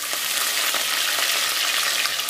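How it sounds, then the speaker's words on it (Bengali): Onion paste frying in hot oil in a pan for a shrimp and taro-stolon curry gives a steady, close, loud sizzle and hiss throughout, with no talk over it. "অনিয়ন পেস্টটা দিয়ে দিয়েছি।"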